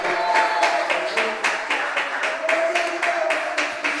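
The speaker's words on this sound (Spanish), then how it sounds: "¿Cuántos quieren aplaudirle al Señor?" A church congregation applauding the Lord during a service, a sustained, fairly loud wash of many hands clapping in a rough rhythmic pulse, with faint voices underneath.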